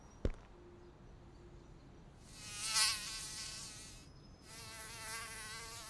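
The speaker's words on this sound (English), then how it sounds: "The mosquitoes started biting us." A high, whining buzz of mosquitoes swells in close to the ear twice, rising and fading, after a sharp tap at the start.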